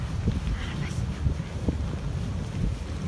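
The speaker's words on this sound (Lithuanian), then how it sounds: "Ir jau girdim jūrą." Wind roars steadily across a microphone on a black sand beach, mixed with the low, continuous rush of sea waves and no clear break in the noise.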